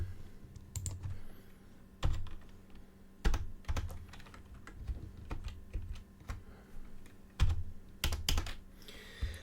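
Computer keyboard typing during an online tabletop role-playing session: close, irregular bursts of clicky keystrokes with short pauses between runs, and no voices.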